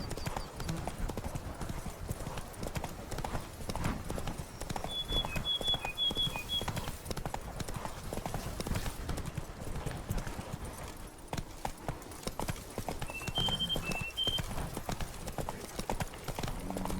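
Horse hooves clip-clop steadily on the path as Roach is ridden in The Witcher 3: Wild Hunt, a continuous trotting rhythm running the whole time with a few faint bird chirps and some game ambience behind it.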